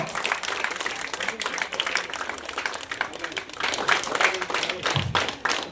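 Applause at a student scholarship ceremony, a crowd clapping steadily and fairly close, with a brief low thump near the end.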